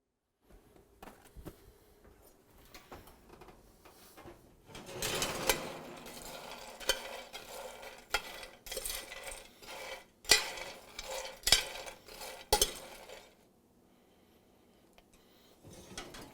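Coffee beans stirred in a tray during oven roasting, with bursts of dry rattling and scraping that come in uneven clusters, fairly quiet, preceded and followed by near silence.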